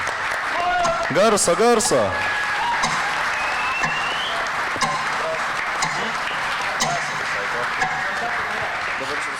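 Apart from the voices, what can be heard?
audience applause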